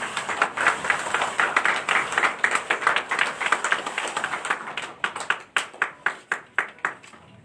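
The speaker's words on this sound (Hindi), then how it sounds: "तालियों के साथ हम भी जुड़ते हैं।" A small crowd applauds at a foundation-stone ceremony for development works in Hamirpur, with quick close claps that settle into slower, distinct hand claps toward the end.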